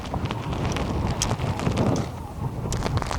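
Strong outdoor wind buffets the microphone while a tent is pitched in extreme weather, a continuous loud rumbling roar with gusty swells and faint rustling over the top.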